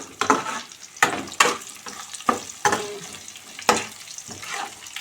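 Tempering spices sizzle in hot oil for bitter gourd curry, with repeated sharp scraping strokes of a spatula stirring the pan at a regular rhythm, close and alone.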